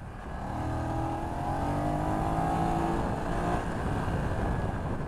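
BMW F900XR motorcycle engine pulling smoothly under acceleration with a steady, continuous drone and rising harmonic tones, loud and close throughout.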